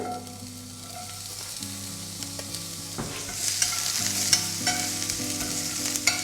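Half a medium onion fries in oil in a pan, a soft even sizzle that brightens and grows louder partway through as it is stirred, with no talking.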